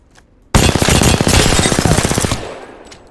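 A rapid-fire weapon in Apex Legends lets off one loud, close, continuous burst of automatic fire lasting nearly two seconds, its individual shots clearly spaced, then tails off.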